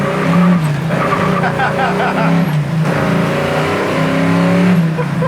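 A 1968 Camaro SS takes off hard, its V8 roaring loud and close as the tires squeal and the revs climb, then shifts and pulls away with sustained engine drone; a voice speaks briefly over it.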